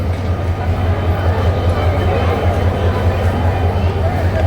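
Jamuna Express passenger train on the Tarakandi–Dhaka route, with a steady low rumble of running carriages holding evenly throughout, close and fairly loud, with some voices faint underneath.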